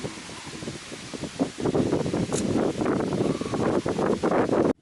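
Wind blowing steadily outdoors on a balcony overlooking yurts, a continuous broadband rush that swells and gusts throughout, fairly loud and close to the microphone.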